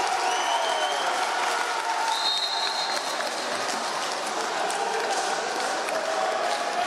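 Stadium crowd at a Bulgarian football match between Spartak and Lokomotiv applauding right after a goal, a broad steady wash of clapping and cheering held at constant loudness throughout with faint whistles above.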